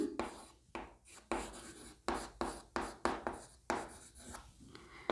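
Chalk or marker writing on a classroom board during a lesson, a series of short scratchy strokes and taps in uneven bursts, close and moderately quiet, with no voice.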